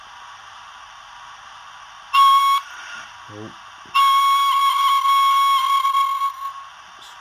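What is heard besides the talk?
Hornby Flying Scotsman model locomotive sound decoder four-burst whistle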